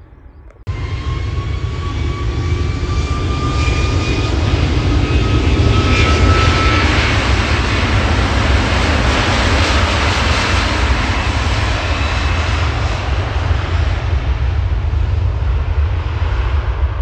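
Air Canada jet airliner departing Manchester airport for Toronto, a loud sustained engine roar with a rising whine that starts abruptly and holds steady throughout.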